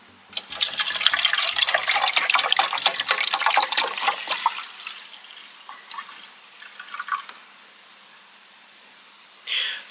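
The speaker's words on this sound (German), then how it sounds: "Und jetzt fülle ich das ganze Wasser hier einfach rein." Water poured into a measuring cup, a close, busy splashing rush for about four seconds that thins into trickles and drips, then a brief final splash.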